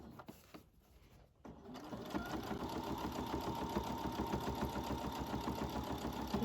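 A sewing machine back stitches over a pocket tab on a big-pocket baby clutch. After a quiet start and a few soft clicks, the needle settles into a fast, even mechanical chatter that runs continuously and fairly close.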